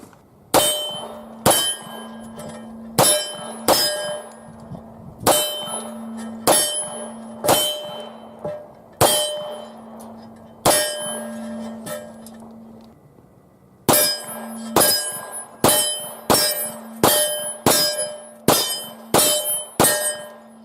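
A Hi-Point .45 ACP pistol fires at steel targets from 7 yards, each shot giving a sharp ringing clang that decays slowly; roughly twenty loud hits come in irregular bursts with a few longer pauses.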